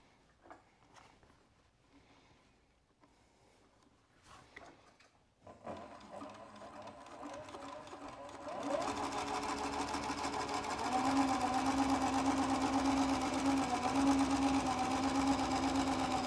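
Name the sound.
sewing machine stitching leather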